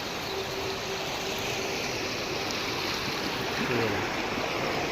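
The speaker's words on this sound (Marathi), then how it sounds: "अशी नदी चालू आहे" A river runs beside the riverside Koteshwar Mahadev temple at Limb, Gove, with a steady broadband rushing of flowing water sounding close and continuous, faint low murmurs and a brief tonal hum mixed in.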